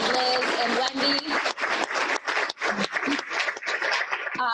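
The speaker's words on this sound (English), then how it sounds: "If everybody could join me in a big applause of appreciation for Shannon and Liz and Wendy." Panel audience at a winery leadership conference breaks into applause, a steady wash of clapping with bursts of cheering and voices mixed in throughout.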